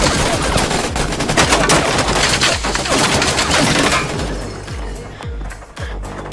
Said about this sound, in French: Et à ce moment-là, les balles dans la cheminée explosèrent.